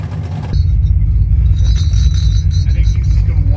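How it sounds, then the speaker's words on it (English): Drag race cars, an Army Jeep and a 1969 Camaro, warm up their tires with a deep, loud engine rumble that kicks in abruptly and holds, rough and throbbing. "I think he's just gonna warm his tires up"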